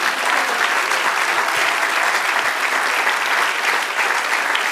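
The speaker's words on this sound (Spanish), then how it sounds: "Dale un aplauso, Señor." Congregation applauding during a church sermon, loud sustained clapping from a full room that stays even and unbroken throughout, without voices on top.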